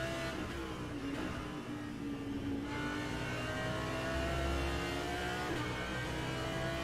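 An Audi R8 GT3 race car engine in a sim racing game at Imola drones and revs steadily at high pitch, shifting tone as it accelerates, with no talk over it.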